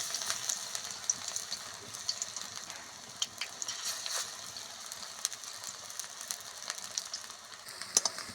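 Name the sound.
drumstick flower fritters frying in oil in a wok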